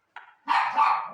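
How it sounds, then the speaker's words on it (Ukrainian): A single dog gives one short yip followed by a fuller, drawn-out bark, close by and alone with no talk. "Вибачте, це моя собака гавкає."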